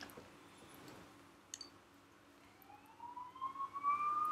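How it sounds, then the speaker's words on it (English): Sirens in the video game Persona 4 Golden, a rising wailing tone that grows louder toward the end over faint background clicks and hum. "You hear sirens nearby."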